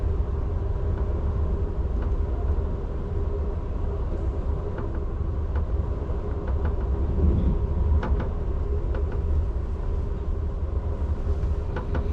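Amtrak Lake Shore Limited passenger train rolling through upstate New York, a steady loud low rumble with continuous wheel and carriage noise and occasional faint clicks and squeaks over the rails, no talking.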